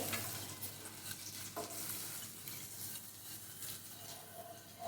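Butter sizzles steadily in a pan while being stirred for a bread omelette, with soft scraping strokes over a continuous close frying hiss and no talking.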